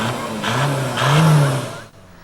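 Tractor engines at a street parade on Aggie Boulevard, revving loudly and close by in two rising swells before cutting off abruptly near the end.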